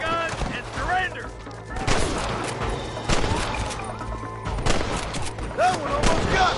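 Gunfire in the Red Dead Redemption video game, several sharp shots cracking out at irregular intervals over a noisy battle scene, with voices speaking in between.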